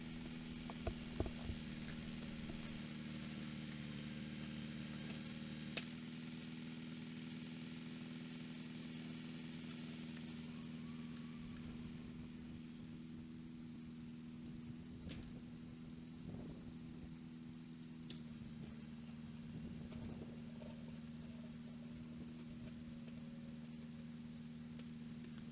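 An older 1970s farm tractor idles steadily while running a three-point PTO winch to skid saw logs, a low continuous engine drone with a few faint clicks and knocks.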